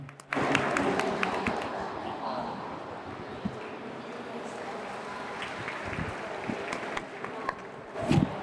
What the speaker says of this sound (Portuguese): Por favor, salva de palmas.